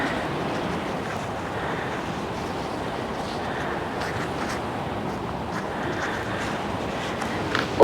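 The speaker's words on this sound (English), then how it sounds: "Wow, so windy." Strong Storm Bert wind roars steadily and close through an outdoor garden, a dense continuous rush with slight gusting swells and no speech.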